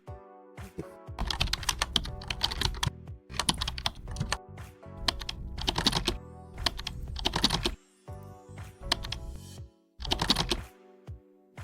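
Someone types a command into a Linux server terminal on a computer keyboard: close, crisp keystroke bursts in several quick runs separated by short pauses.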